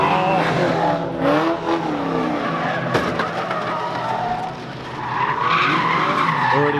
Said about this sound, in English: there's some drifting going on